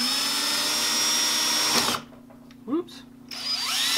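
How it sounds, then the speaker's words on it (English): A power drill drills a second hole for a DIY license plate delete, whining steadily up close, then stopping abruptly; a brief exclamation follows before the drill spins up again. "All right, and then we'll drill out the other hole."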